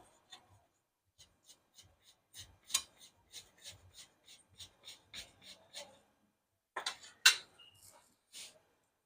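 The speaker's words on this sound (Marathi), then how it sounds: "आता बटाटे आपण किसून घेऊ" Raw potatoes grated by hand for a fasting-day sabudana flatbread, heard as a run of close, dry rasping strokes in an irregular rhythm, with a louder burst of scraping near the end and no talking.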